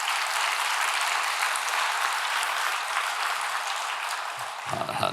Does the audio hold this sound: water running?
no